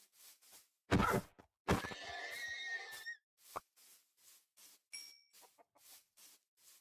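A horse neighs loudly up close in a video game, one long whinny after a short snort, amid soft rhythmic clucking and shuffling game sounds with gaps of near silence.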